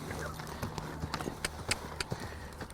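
A green mare canters in an arena, her hooves striking in a quick, uneven rhythm of dull thuds, fairly faint and set against a low background, with a voice talking over it.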